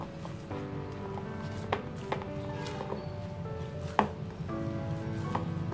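Pizza dough being worked by hand with oil in a home kitchen, soft repeated squishing and slapping with a few sharper knocks against the bowl or counter, close and fairly quiet.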